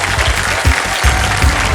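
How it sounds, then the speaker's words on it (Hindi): Loud studio audience applause on a television quiz show set, welcoming ten new contestants, a dense continuous wash of clapping across the whole moment with a host's voice faintly underneath. "मैं चाहता हूं कि जोरदार तालियां बज जाएं उनके स्वागत"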